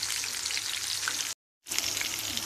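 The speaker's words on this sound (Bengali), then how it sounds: "একদম গরম তেলে আমি দিয়ে দিলাম এখন এটা হচ্ছে মিডিয়াম আছে এটা ব্রাউন কালার হওয়া পর্যন্ত আমাকে এটাকে ফ্রাই করে নিতে হবে" Chicken popcorn pieces fry in hot oil, a dense, crackling sizzle that runs steadily, cuts out briefly in the middle, then resumes.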